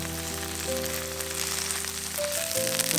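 An oatmeal and green onion pancake fries in oil in a pan, giving a steady, even sizzle throughout, with a soft sustained musical tone beneath it.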